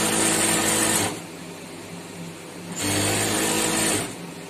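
A sewing machine stitches the gathered panels of a shalwar trouser in two bursts of fast, steady mechanical whirring, separated by a quieter pause, up close with no talking.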